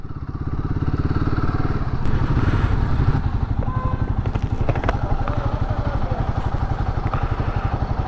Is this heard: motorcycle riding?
yes